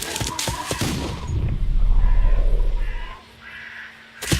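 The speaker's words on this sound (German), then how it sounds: "Ein Schuss." Gunfire in a Sherlock Holmes video game, a quick burst of sharp cracks followed by a low rumbling boom that fades out, then another sharp report at the end, with no talking.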